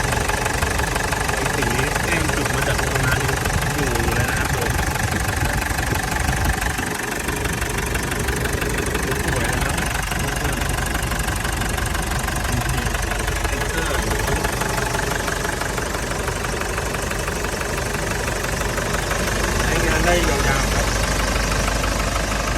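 A car engine idles in its open engine bay with a steady, loud mechanical hum and rattle, while someone talks over it.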